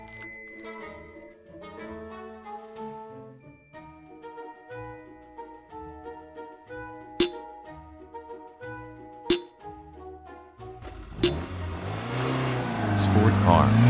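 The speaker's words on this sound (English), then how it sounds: "Bicycle." A bicycle bell rings with a few bright, clear dings among soft chiming tones, followed near the end by a louder burst of passing traffic noise.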